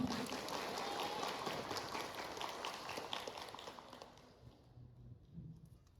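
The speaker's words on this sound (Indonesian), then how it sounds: "Boleh tepuk tangannya untuk kita semua?" An audience at a university workshop on Arabic language claps in a dense burst of applause that gradually thins and fades to scattered claps.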